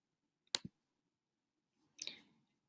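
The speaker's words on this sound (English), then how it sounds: "So I click on that." A single sharp computer mouse click, close and crisp, followed a moment later by a second softer click-like tap in an otherwise quiet room.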